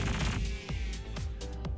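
Spaceship guns firing in Star Citizen from a Freelancer MIS ship, a rapid series of punchy blasts over a steady loud engine rumble.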